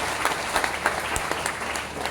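A church audience breaks into steady applause, a dense wash of clapping hands filling the space with scattered sharper claps throughout.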